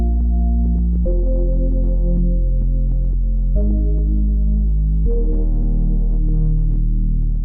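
Synth loop built on a detuned saw wave with eight voices and a triangle sub oscillator, no distortion, playing sustained chords that change every second or two, loud and steady with a deep low end.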